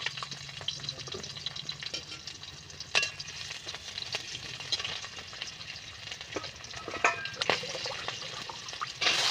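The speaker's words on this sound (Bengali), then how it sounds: "এবারে কড়াইতে আমি তেল দিয়ে দিয়েছি কাঁচা লঙ্কা দেওয়া হয়েছে এরপরে দেওয়া হচ্ছে পেঁয়াজ কুচি" Chopped onion and green chillies fry in oil in a wok, giving a steady close sizzle with occasional sharper crackles and pops, alone with no talk.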